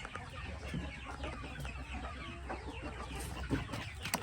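Healthy backyard chickens cluck softly and intermittently over a dull outdoor background, several birds close by with scattered short calls.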